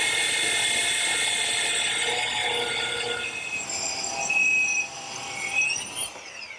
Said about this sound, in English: Now I've just ripped a piece of plywood that's 20 inches wide.